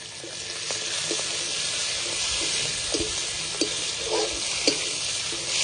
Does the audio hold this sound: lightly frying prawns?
yes